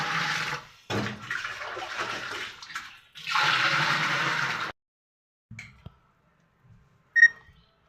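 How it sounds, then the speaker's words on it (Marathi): Water pours into a clay pot in gushing bursts with short pauses, loud and close, then stops, leaving a few faint clinks and a brief beep. "पूर्ण माठ भरून पाणी ठेवणार आहे"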